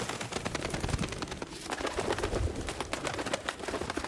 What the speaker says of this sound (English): Birds. Loud birds.